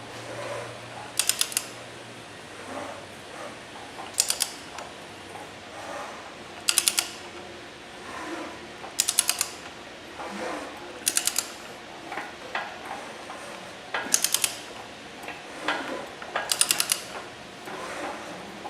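A ratchet turns an engine flywheel on a 1929 AV8 coupe build, clicking in sharp, evenly spaced bursts about every two seconds, close and clear, with quiet mechanical shuffling between the strokes.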